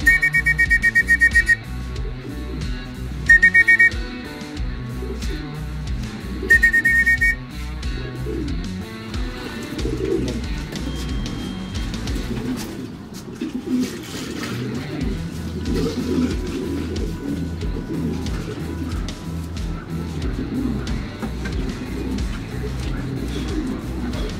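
Homing pigeons returning from a training flight coo steadily and close by, with soft whistling calls and bird chatter layered over a continuous low rhythmic hum.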